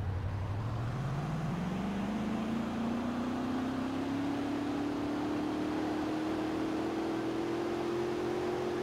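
A Lamborghini SVJ accelerates hard in the Roblox driving game, its engine note climbing steadily and continuously over several seconds with no gear breaks, loud and alone with no talk.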